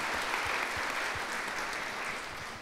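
An audience at a wellness festival conversation applauding, a steady wash of clapping with a few distinct nearby claps underneath.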